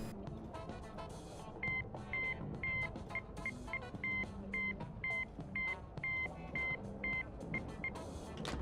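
The white phone in a zombies Easter egg within a video game gives a repeating series of short electronic beeping tones in a steady rhythm over busy game background sound.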